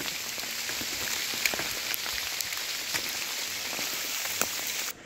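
Steady rain falls outdoors in a jungle camp on a Yarsagumba expedition, a constant hiss with scattered drip taps at moderate loudness and no talk.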